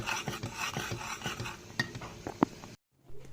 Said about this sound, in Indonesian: Ini masih berlanjut kukusannya dan sambil mengaduk si santan